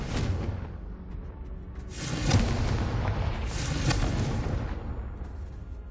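Confringo explosive spell from Hogwarts Legacy blasting: a broad rumbling boom that swells and lingers for several seconds, with whooshing debris and crackle over a dense, sustained roar.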